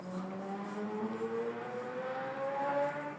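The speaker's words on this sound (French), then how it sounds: "les bruits de moto, c'est incroyable." An engine whines in the distance, its pitch climbing steadily like a motorcycle accelerating outside, faint and unbroken with no voices.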